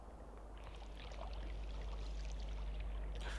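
Water flows continuously in the rain-soaked world of the video game Rain World, a steady rushing stream under a low hum that builds slightly in the middle and holds at a constant level throughout.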